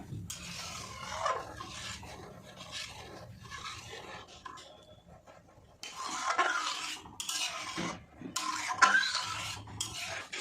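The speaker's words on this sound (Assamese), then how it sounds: "এতিয়া গাখীৰখিনি লৰাই থাকিব" Milk, half a litre, stirred in a pot as it comes to the boil, bursts of scraping spoon strokes against the metal with brief pauses between, close and moderately quiet, with no talk.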